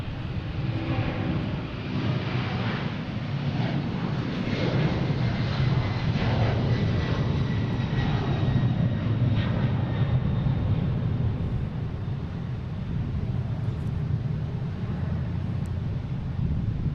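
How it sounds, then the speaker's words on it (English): A Delta Boeing 767 takes off from Boston Logan bound for Edinburgh, a sustained, powerful low jet roar that builds and holds steady, heard from a distance and alone. "We have a Delta here taking off to Edinburgh. 767, flight 122."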